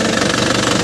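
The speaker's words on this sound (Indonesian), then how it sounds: "suara mesin masih renyah ya kan, masih renyah, masih kempel, masih padat" A 2011 Panther GrandTouring engine runs steadily with a dense, even mechanical rumble and rapid knocking pulse, heard up close and alone with no voices.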